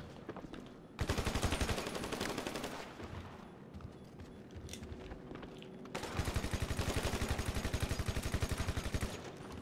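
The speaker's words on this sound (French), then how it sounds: "Ah, mitraillette." Rapid machine-gun bursts in GTA 5 Online, loud and close, one long burst of steady rhythmic rounds, a brief pause, then a second sustained volley, with no talking over it.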